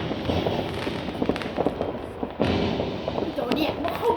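Fireworks burst all around during New Year 2025 celebrations, a dense stream of crackling pops and thumps with a few sharper bangs near the middle and end, while people talk excitedly over the noise.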